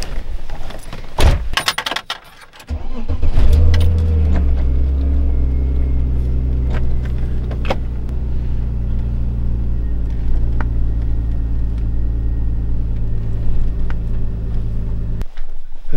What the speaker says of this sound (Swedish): Ja, vi hoppar in och kör ut.